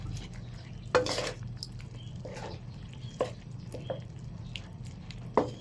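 Stirring chicken feet adobo with sugar in a pot, with a few soft scraping and clinking strokes of the spoon against the pot over a low steady simmering hum.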